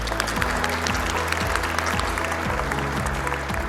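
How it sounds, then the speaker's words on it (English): Sustained applause from a crowd at a Black History Month celebration, steady clapping throughout with some harmonic music or tones running underneath. "That deserves a round of applause."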